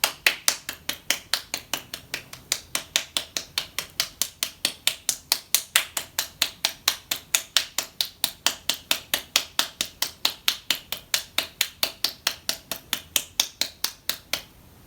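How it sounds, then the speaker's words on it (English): Fingers of one hand slapping onto the palm of the other in a yoga hand exercise, a long run of crisp, even claps at a steady quick rhythm, close and alone. "So we'll send the fingers of one hand to the palm of the other and clap."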